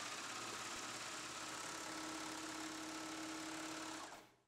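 An overlocker-type sewing machine runs continuously at high speed, joining, trimming and neatening a jersey seam in one pass, with a steady mechanical whir and hum lasting until it stops abruptly near the end.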